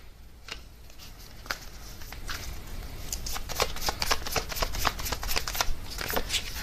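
Tarot cards being shuffled and drawn by hand: a steady run of crisp, close riffling and flicking snaps that grows busier and denser toward the end, with no talking.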